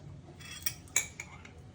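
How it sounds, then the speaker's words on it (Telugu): A pressure cooker being set down in a home kitchen, with pots and metal utensils clattering in a few sharp, close knocks and clinks over a low background hum. "ఇలా ఒక కుక్కర్ పెట్టుకున్నాను,"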